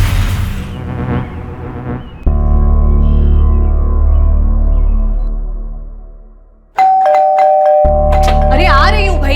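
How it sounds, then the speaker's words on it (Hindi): A doorbell chimes loudly and close, its bright ding-dong cutting in after a stretch of droning background music, with a voice speaking around it. "क्यों इतनी घंटी मार रहे हो?"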